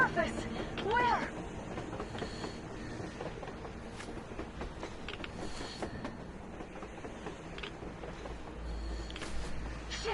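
A train rolling along on the surface in the video game Metro Exodus, a steady low rumble and clatter running under a voice speaking throughout.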